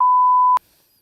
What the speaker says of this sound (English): I'll beep it out in post